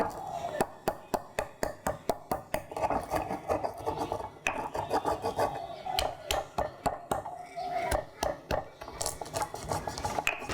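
Peppercorns, nutmeg and candlenut are ground by hand for a Balinese spice paste, giving rhythmic gritty scraping and knocking strokes at a quick, fairly steady pace, close and loud, with no pauses longer than a moment.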